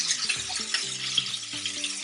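Red chili pepper cooks in a pan, a steady wet sizzle with light stirring scrapes and faint tonal clinks underneath, close and continuous.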